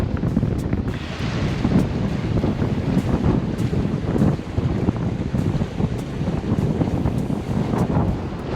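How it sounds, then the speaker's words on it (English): Gusty wind buffets the microphone aboard a sailboat heeled over under sail near Little River Inlet, a continuous loud rush with water sloshing beneath and irregular bumps and thuds throughout. "Got some good wind now."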